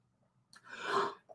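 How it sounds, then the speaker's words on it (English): A single person's sneeze, a short breathy intake followed by a burst of air, close and fairly quiet, with a faint breath after. "Is that my first sneeze on live stream?"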